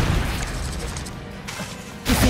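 A Confringo blast spell in Hogwarts Legacy goes off with a muffled boom and crash, followed by a whooshing tail and a fresh burst of noise near the end of the short stretch.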